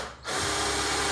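A power drill drives screws into the hinges of a DIY travel case, its motor spinning up after a brief lull into a loud, steady whine up close.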